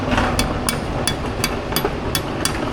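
A hammer taps on the axle cover of a Ford 2.7 EcoBoost with a blown axle seal, giving about eight sharp, evenly spaced metallic knocks up close over a low background rumble.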